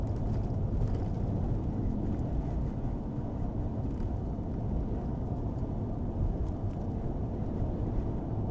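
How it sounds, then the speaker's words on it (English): Steady wind roars during a North Carolina winter storm with blowing and drifting snow, a constant broadband rush without pause. "God, the wind is still blowing though, I tell you what"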